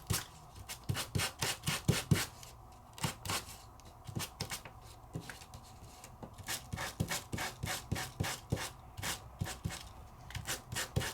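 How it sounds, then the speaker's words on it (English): A handheld sanding gadget rubs back and forth across embossed paper roses in quick, rhythmic scratchy strokes, close and fairly quiet, with brief pauses between runs. "If I bring my sanding gadget over and I hit those roses"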